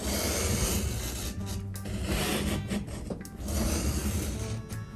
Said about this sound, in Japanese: 真上から刃がどこについてるか見て、それで真上からカッターを押して